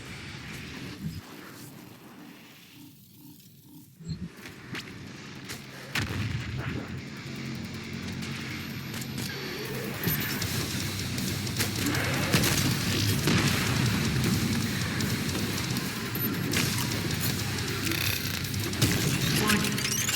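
The BFG 10,000 superweapon firing in the video game Doom Eternal: a deep artillery-like boom followed by a swelling, rumbling blast that builds and sustains loudly for many seconds, with game sounds layered throughout.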